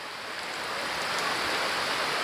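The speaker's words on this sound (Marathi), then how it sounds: "भर पावसामध्ये हा पाऊस बघा किती मोठा लागतो आहे वारा आहे" Heavy monsoon rain with wind in the Konkan, a dense, steady hiss that rises slightly and fills the short stretch without pause or voices.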